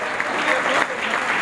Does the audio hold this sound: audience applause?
yes